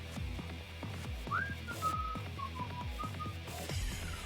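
Someone whistles a few short, wavering notes inside a video game, clear and close over a pulsing, throbbing electronic background with no speech.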